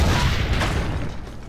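Cannon fire in the Assassin's Creed Brotherhood battle, a loud low boom at the start that rumbles on and slowly decays, with no talk over it.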